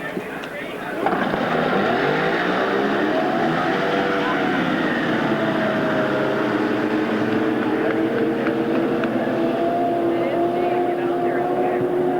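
Motorboats racing on water at a boat club race in the 1980s, a loud sustained engine drone with slowly shifting pitch heard from a distance after a brief quieter start.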